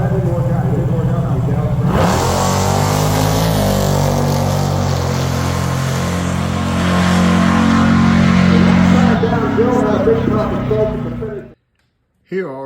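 A nitrous-fed 512 Barracuda drag car makes a pass: a loud, sustained engine roar whose pitch climbs steadily and then stops abruptly near the end.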